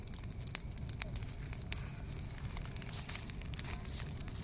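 A wood fire burns in the open for cooking popti, a Konkan clay-pot dish, with a steady low roar and frequent sharp pops and crackles throughout, moderately distant and fairly quiet.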